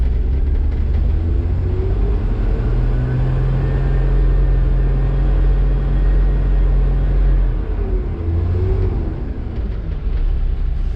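A truck engine runs loud and steady at close range with a deep rumble and a rising whine, then settles into a lower idle for the last few seconds.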